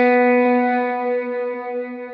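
Electric lead guitar with heavy reverb and delay, a single sustained swelling note ringing out clearly alone and slowly fading, with a faint echoing trail.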